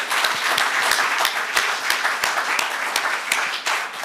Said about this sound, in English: let's give these two a big round of applause